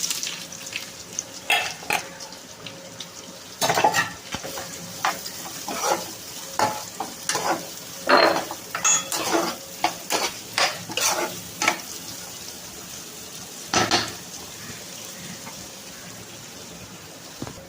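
Cut onions sizzle in hot oil with cinnamon, cloves and cardamom, a constant close frying hiss broken by repeated stirring scrapes and clinks of a spoon against the pan.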